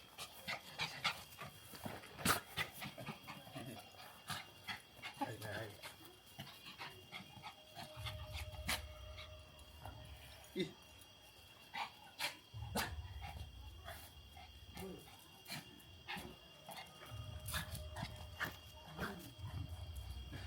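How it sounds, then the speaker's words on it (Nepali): A dog at a family home in Bhutan barks repeatedly and pants heavily, the breathing coming in bursts between sharp barks at close range, with no talking. "आउँछ यहाँ भुक्न थाल्यो"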